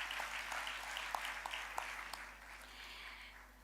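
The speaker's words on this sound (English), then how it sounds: "Give yourself a round of applause for this achievement." Graduates at an autumn graduation ceremony for health sciences and law give themselves a round of applause, a soft, diffuse wash of many hands in a large hall, faint and distant, easing off toward the end.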